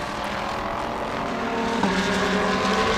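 A BMW race car in the 2023 Thailand Super Series enters the pit lane with a steady, loud engine drone that holds a sustained tone throughout.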